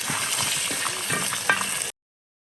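Mustard seeds, onion, ginger and garlic crackle and sizzle steadily in hot oil after fish has been fried, a dense close frying hiss with small pops and stirring clinks, cutting off abruptly near the end.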